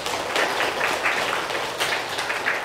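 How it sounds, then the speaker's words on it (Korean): A church congregation gives a short burst of applause for the conductor, choir and accompanist, a dense, even clatter of many hands lasting a few seconds. "지휘자, 찬양대, 반주자에게도 박수 한번 하시죠."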